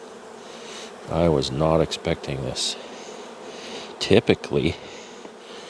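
Honey bees buzz steadily at an opened hive during a late-season inspection, a faint continuous hum running under a person's speech throughout.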